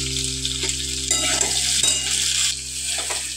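Okra frying in a pan with salt, turmeric, chili powder and sugar gives a steady, close, loud crackling sizzle with occasional stirring scrapes, and no voices.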